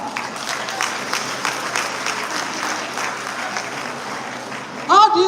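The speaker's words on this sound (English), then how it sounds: "please let us clap." A crowd at a public gathering claps steadily for several seconds, continuous dense applause that fades toward the end before a brief louder burst.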